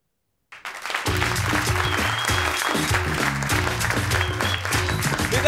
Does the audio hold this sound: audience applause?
yes